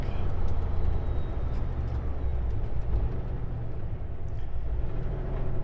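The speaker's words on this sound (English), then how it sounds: "All you hear is the truck." A truck drives near Missoula, Montana, heard from inside the cab. Its engine drones in a steady, low rumble mixed with continuous road noise, with no talking.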